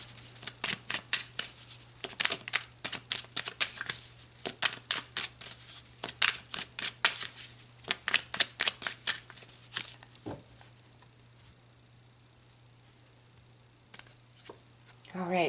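Tarot cards shuffled by hand, a long run of rapid crisp riffles and flicks that thins out and stops near the end, leaving a quieter stretch with a low steady hum.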